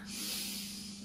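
A deep, steady inhalation through the nose during a vinyasa yoga breathing exercise, a continuous airy hiss lasting about a second over a low background hum, close and moderately loud with no talking.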